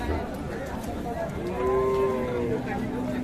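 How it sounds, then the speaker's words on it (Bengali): A dairy cow lets out a drawn-out moo over the steady murmur of a busy cattle market in Ambari, Dinajpur, with low crowd noise throughout. "আমরা দেখছি দিনাজপুর জেলার আমবাড়ি হাটে উন্নত জাতের দুধের গাভী বাছুর"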